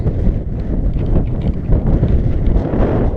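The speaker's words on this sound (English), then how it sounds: "I'll try and get a bit out of the wind." Wind on a hilltop walk up Moel Famau buffets the microphone with continuous loud, low, rough rumbling that surges and eases throughout, with no talking.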